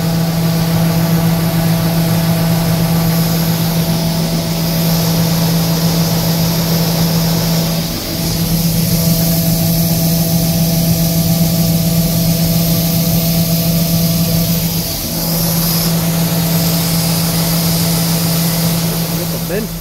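Combine harvester engine idling with the header raised, a loud steady drone with a strong low hum that dips briefly twice, while someone talks over it.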